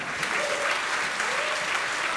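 Audience applause fills a Polish awards gala hall as a couple is called to the stage, a steady, dense clapping from a large crowd with a faint tonal whistle or hum rising briefly above it.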